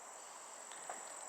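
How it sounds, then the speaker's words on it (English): Crickets chirping as a faint, steady high-pitched trill that holds continuously throughout, distant and soft with no voices. "now I'm hearing all the crickets"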